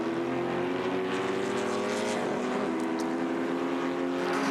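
Historic race cars at the Dijon circuit, including a yellow Chevron and a Porsche, drone steadily with sustained engine tones throughout, loud and continuous with no voices.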